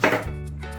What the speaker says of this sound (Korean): 양파를 크게 크게 원형으로 썰어서 준비해주고